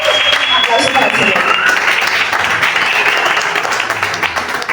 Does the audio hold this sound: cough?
no